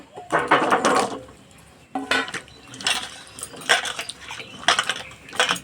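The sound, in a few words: small potatoes being washed in water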